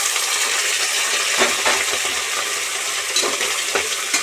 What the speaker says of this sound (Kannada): ಈರುಳ್ಳಿ ಒಂದು ಸ್ವಲ್ಪ ಬಾಡಿದ್ಮೇಲೆ ಬೋಟಿ ತೊಗೊಂಡಿದ್ದೀನಿ ಬೋಟಿ ಹಾಕ್ತಾಯಿದ್ದೀನಿ